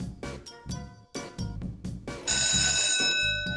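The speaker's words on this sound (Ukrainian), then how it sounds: "А ось і дзвінок." An electric bell rings steadily at the end of a class, a loud continuous jangle that starts partway through and carries on over murmured background voices and movement.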